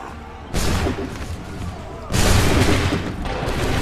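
Musket volleys crash out in Assassin's Creed 3: a broad burst of gunfire at about half a second, then a second, heavier volley that rolls on with continued rumble and shots, loud and dense with no clear speech over it.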